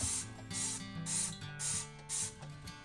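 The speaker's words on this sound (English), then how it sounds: "use a rag or a paper towel to just go ahead and spray the bottom" Repeated hissing bursts of a spray bottle of cleaner alternate with rubbing and wiping strokes on the bottom of a washing machine in a regular rhythm, while a machine hums underneath.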